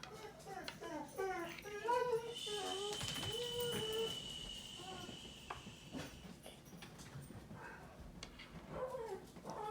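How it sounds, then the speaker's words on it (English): A neighbor's dog barks, yips and whimpers in scattered bursts at moderate distance while a person talks nearby. "I see the neighbor's dog's barking"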